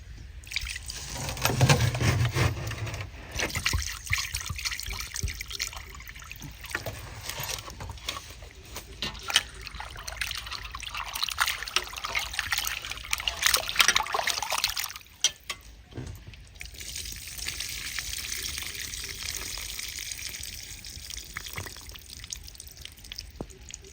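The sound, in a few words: water running while washing chicken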